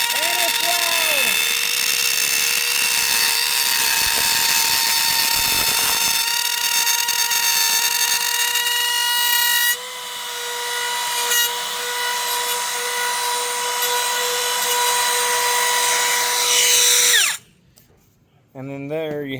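A power tool plunge-cuts into material on a charcuterie board project: a loud, sustained high-pitched whine with strong harmonic tones that shifts pitch partway through, then abruptly stops near the end. A voice talks over it.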